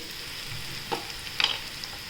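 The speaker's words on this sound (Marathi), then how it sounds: "छान दोन मिनटं परतून घ्यायचं" Green masala for poha sautés in a pan, a soft close sizzle with a few light clicks of stirring, brief and steady, with no voices.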